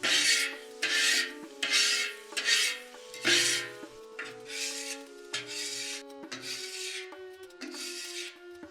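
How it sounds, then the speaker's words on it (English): A scraper drags repeatedly across caked-on residue on a flat-top griddle being cleaned after deglazing, giving a series of harsh rasping strokes in a steady back-and-forth rhythm, close and loud, with no talking. "And then come back in with our scraper."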